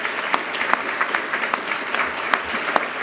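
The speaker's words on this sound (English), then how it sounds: "We might need to hold applause until the end" Applause fills an annual awards luncheon room, a dense steady wash of many hands clapping with sharper individual claps popping through, no talk over it.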